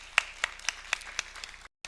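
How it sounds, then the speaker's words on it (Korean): A congregation at a Sunday worship service claps in a steady rhythm, about four sharp, evenly spaced hand claps per second, fairly close and clear, then a brief silence before one more clap. "박수로 하나님께 영광."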